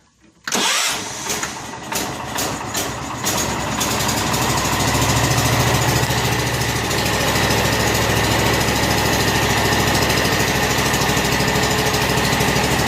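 A John Deere 210 lawn tractor engine cranks and catches, then settles into a loud, steady running drone close by, with no talk.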